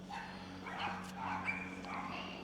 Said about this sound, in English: Dogs are barking in the background.